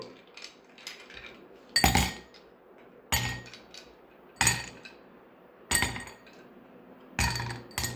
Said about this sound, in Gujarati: પહેલા આપણે એની અંદર થોડો બરફ એડ કરશું।